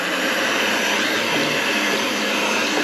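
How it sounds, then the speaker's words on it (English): A heat gun on its hottest setting blows with a steady, loud whooshing roar, constant like a hair dryer running on high, with no pauses or voices. "Heat gun, I'm gonna heat it up, turn it on hot"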